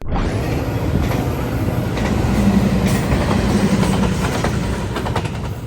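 Close, loud rumble of a passenger train pushed by an F40PH-2 locomotive, number 112, passing at Downers Grove, with continuous wheel roar, clickety-clack over rail joints and a brief squeal.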